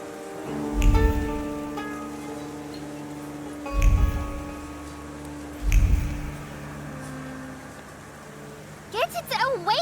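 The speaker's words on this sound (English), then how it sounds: "And now it starts to rain." Rain falls in the video game The Thaumaturge, a steady wet hiss under three heavy, low booming thuds, with brief warbling vocal-like sounds near the end.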